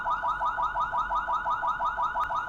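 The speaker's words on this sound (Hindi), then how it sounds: "ट्रिगर सायरन अगर इसमें आप कर देते हैं ऑन" CP Plus CP-E35A home CCTV camera siren triggered on, sounding a loud, rapidly repeating electronic warble in quick regular pulses, alone and close.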